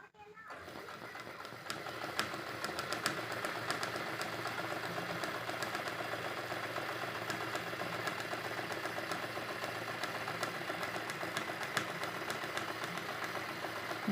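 A sewing machine runs at zero number stitch, a fast, even mechanical whirr with rapid ticking that starts after a brief pause and continues steadily, while a voice talks over it.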